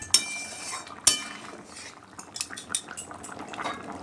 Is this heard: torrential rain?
no